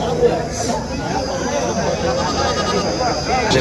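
Goats bleat amid a busy crowd, several calls rising over constant chatter and background babble at a lively early-morning goat market.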